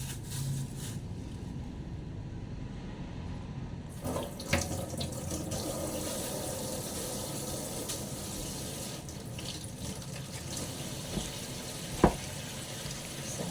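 A kitchen tap runs steadily as alugbati leaves are rinsed under it, a continuous close rush of water with faint splashes and a brief clink near the end.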